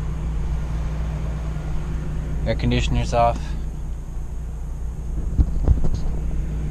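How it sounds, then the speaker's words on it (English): An RV generator running at half speed on its speed control while charging batteries at a boondocking site gives a steady low hum throughout, and someone speaks briefly over it. "Generator's running at half speed."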